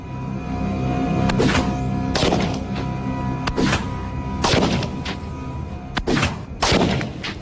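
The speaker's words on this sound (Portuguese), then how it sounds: "Continuamos preparando a área, enquanto Michael testa a Mannlicher Carcano em alguns alvos fixos." Mannlicher-Carcano rifle fired at fixed targets outdoors, about eight sharp cracks at irregular intervals, each with a booming echo, over a steady droning background hum.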